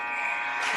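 A loud, harsh electronic end-of-period buzzer at a hockey game blares steadily for under a second, bright and sustained.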